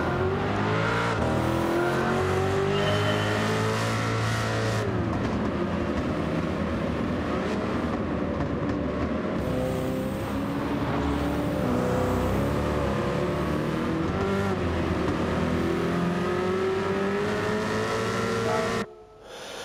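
A race car in the Gran Turismo video game driven along a gravel track, engine droning and revving continuously and loudly throughout with shifting pitch, then cutting off abruptly just before the end.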